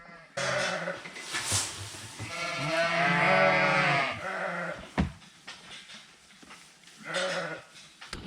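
A ewe bleats loudly and close by in a farm setting at feeding time, several wavering drawn-out calls with one long bleat in the middle, mixed with some handling noise.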